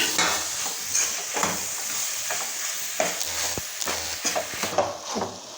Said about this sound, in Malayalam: ഈ ഉള്ളിയുടെ തണ്ട് നമുക്കിതിലേക്ക് ഇട്ട് കൊടുത്ത് നല്ലതായിട്ട് ഇടാം